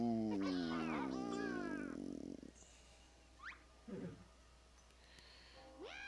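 Cartoonish cat meows in the Banjo Kazooie Nuts & Bolts video game, a few short, rising and falling cries, some wavering, after a loud stretch of game music and effects, with a faint voice mixed in.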